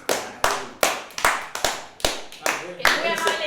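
A person claps hands about nine times in a steady rhythm, sharp and close, during a stream broadcast about the Tokyo 2020 Olympics.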